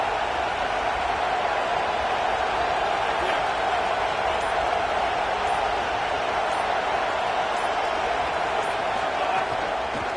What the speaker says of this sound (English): The Tide crowd rolling noise down onto Saban Field on third down